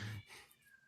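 A house cat meows loudly and close by, a short drawn-out call with a rising and falling pitch, heard alone with no talking.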